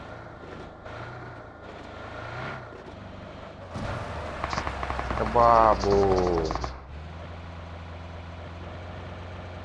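A vehicle engine in the mobile battle royale game BGMI rumbles through the clip, swelling louder in the middle as it revs, with friends talking over voice chat.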